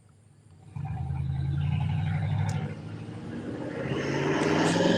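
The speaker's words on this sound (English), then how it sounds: "Oh my God, a loud truck" A loud truck passes outside, its deep engine rumble rising suddenly, holding, dipping briefly, then swelling again as it goes by, with no talk over it.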